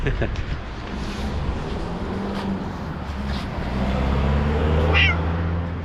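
A shop cat gives a few short meows amid outdoor street noise by a market, with a car rumbling nearby and some talking.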